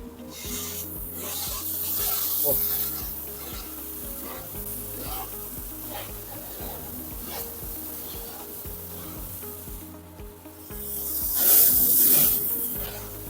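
An industrial food-container washing machine runs with its conveyor belt and pump going, a close, hissing and sloshing wash noise over a rhythmic mechanical thumping, with a louder spray surge near the end.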